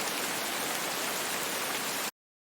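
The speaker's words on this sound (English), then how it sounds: "listen to these different rain sounds and pick the one that we like the most" Heavy, aggressive rainfall recording, a harsh, dense wash of broadband noise that stays loud and unbroken for about two seconds before stopping abruptly into silence.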